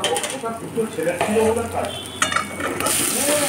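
Potatoes sizzle in oil with chilli powder and asafoetida in a kadai while a spoon stirs and scrapes, giving steady frying crackle with irregular metallic clinks and scrapes close by.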